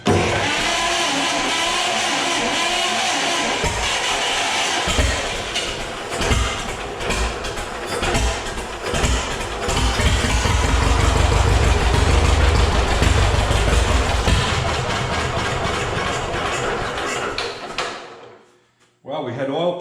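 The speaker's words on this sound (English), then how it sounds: "it was only idling slow like that because I had no, you know, throttle hooked up" A John Deere engine on a rebuild, with no throttle hooked up, sputters and rumbles at a slow, uneven idle for a long stretch under occasional talk, then cuts out near the end.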